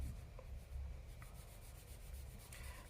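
A Caran d'Ache pastel pencil is rubbed smoothly across paper to blend a sky, making a soft, steady, close-up rubbing hiss that continues faintly and without pauses.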